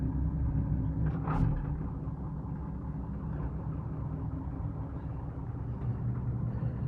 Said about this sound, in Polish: Traktorek chodzi elegancko, wszystkie półbiegi działają.